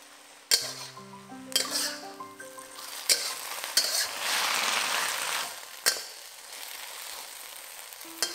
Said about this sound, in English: stir fry the vegetables till the sauce is slightly thickened